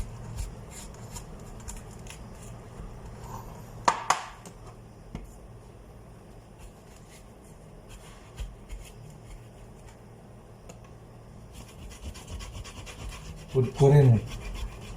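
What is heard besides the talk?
scraping the bitter white pith off a vegetable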